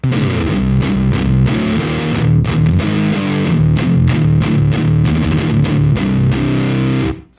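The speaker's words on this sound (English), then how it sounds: "I'm getting like a modern distortion type sounds gated, which is super cool from a fuzz pedal." Electric guitar with EMG pickups played through a Haunted Labs Hell Horse fuzz pedal, giving a scooped, gated, modern-distortion tone: dense chugging chords with tight rhythmic stops, loud and continuous for several seconds, no talking.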